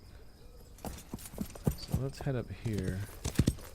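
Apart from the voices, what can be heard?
horse hooves clip-clopping in Wild West Online video game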